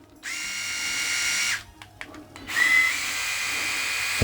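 Remington RX5 electric rotary shaver switched on, a steady high-pitched motor whine close by, briefly interrupted by clicks and handling noise before the hum resumes, with no talk.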